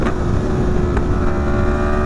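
A Yamaha MT-10 motorcycle engine runs loud and steady, a continuous close rumble with a constant drone and no voices.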